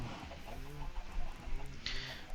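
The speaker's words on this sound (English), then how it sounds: "This is all my chickens." Chickens in a modded video game cluck in short, repeated bursts, several birds close together in quick succession, with a brief higher chirp near the end.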